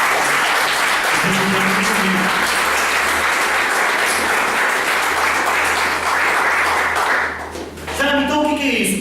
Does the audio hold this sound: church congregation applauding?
yes